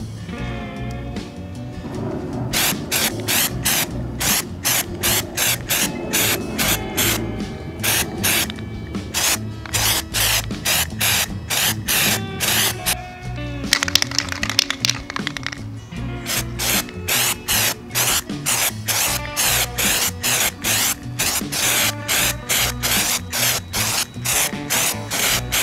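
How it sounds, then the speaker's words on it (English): Rust-Oleum rubberized undercoating sprayed from an aerosol can onto shoe soles for flat-pedal mountain bike shoes: many short rhythmic hissing spray bursts in quick succession, close and loud, with a brief pause midway. "let's take our Rust-Oleum rubberized undercoating and let's spray paint the bottom of these"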